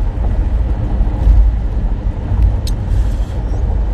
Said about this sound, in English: there's so much traffic out here in LA